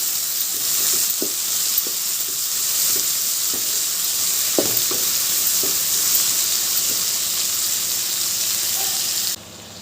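Tomatoes sautéing in oil for a taro and brinjal tamarind curry, a loud steady sizzle with scattered clicks and scrapes of a spoon stirring the pan, ending abruptly near the close.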